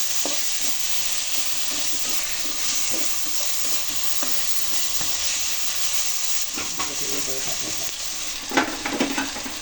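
White brinjal and two green chillies sauté in a pan, a steady close sizzle with scraping stirs throughout and a few louder clatters near the end.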